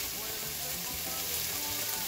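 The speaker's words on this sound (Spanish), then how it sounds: "Vamos a sofreír todo esto porque ya la carne ya está ready" Onion, red peppers and tomatoes sautéing in a pan with ground meat, a steady crackling sizzle throughout while a voice talks faintly over it.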